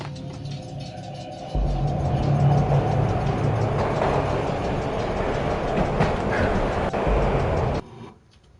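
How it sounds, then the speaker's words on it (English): Train ride in the Max Payne game on PS2, a loud, steady rumble of rolling rail cars with faint clickety-clack, starting abruptly and cutting off near the end. "This was my second train ride of the night."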